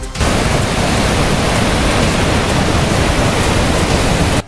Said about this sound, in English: it is a huge waterfall, which is incredibly powerful to see